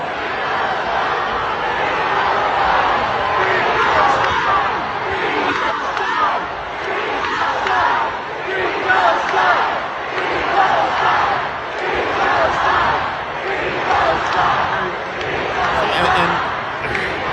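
A large crowd at a Bernie Sanders event chants "Free Palestine" in a loud, sustained, rhythmic roar with pulsing repetition throughout.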